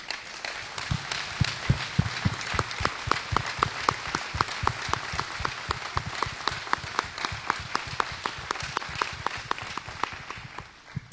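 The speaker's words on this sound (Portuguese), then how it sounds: "uma grande salva de palmas de agradecimento à Associação Cultural de Porto Judeu" Audience at a festival of philharmonic bands on Terceira in the Azores applauding the Associação Cultural de Porto Judeu, sustained crowd clapping for about eleven seconds, dense and even throughout with no talk.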